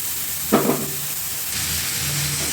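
Grated beetroot tipped into onions frying with salt and turmeric in a pan, giving a brief burst of sizzle and hiss that settles into a steady low frying crackle.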